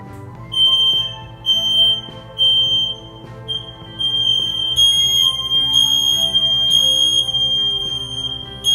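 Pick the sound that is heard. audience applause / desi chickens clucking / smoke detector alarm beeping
smoke detector alarm beeping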